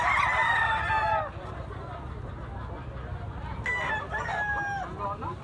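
A black-legged bullstag rooster crows loudly nearby twice, one call at the start and another near the end, over a background of distant clucking and farmyard noise.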